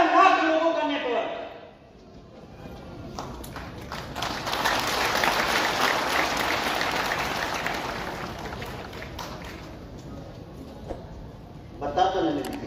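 A live audience claps at a motivational business talk by an RCM network leader in a hall, a loud dense burst of applause sustained for several seconds, with someone speaking in Hindi before and after.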